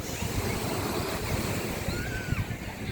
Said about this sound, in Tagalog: Yung alon.